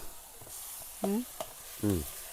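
Food and curry leaves sizzle in hot coconut oil, a steady soft hiss with a voice briefly cutting in twice.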